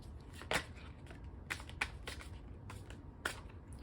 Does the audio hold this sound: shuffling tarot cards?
yes